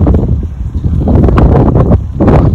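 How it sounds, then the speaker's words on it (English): Gusty wind buffets and rumbles against the microphone in uneven surges, loud and close, with no voices. "Cold out, windy too."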